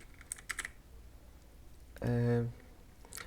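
Computer keyboard typing, with light clicking keystrokes, followed by a brief steady electronic tone and some faint background noise.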